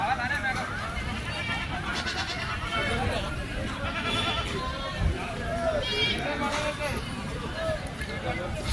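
Goats bleat repeatedly at a busy Sunday livestock market at Chilpur Gutta, their calls rising over steady crowd chatter and people talking nearby.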